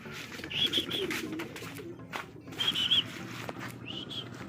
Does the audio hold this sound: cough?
no